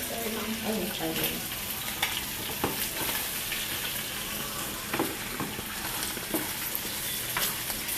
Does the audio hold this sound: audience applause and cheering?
no